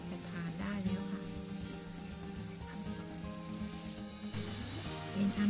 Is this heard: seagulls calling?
no